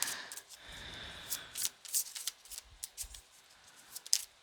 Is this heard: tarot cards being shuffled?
yes